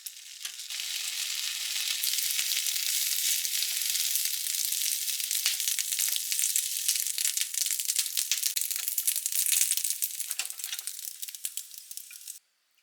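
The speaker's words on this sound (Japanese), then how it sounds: "ベーコンも焼いて" Bacon sizzles and crackles steadily in a pan for several seconds, a close, dense hiss with scattered pops that stops abruptly at the end.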